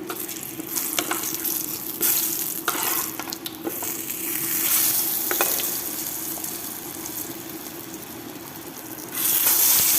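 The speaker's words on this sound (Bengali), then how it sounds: "বন্ধ করে বেগুন ভাজতেছি" Eggplant slices frying in oil in a pan on a home stove while vegetable khichuri cooks, giving a steady close sizzle with occasional crackles and stirring scrapes and a louder burst near the end.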